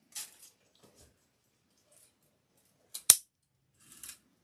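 Scissors trimming an old wreath base: a few sparse, quiet snips, then one sharp, louder cut near the middle and a softer snip after it, set against near-silence.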